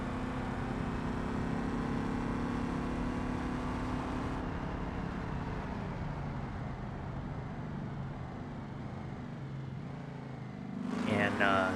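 An LS V8 drag car engine in BeamNG Drive drones steadily at a low, throaty pitch, gradually shifting as revs change, with a brief rising whine near the end.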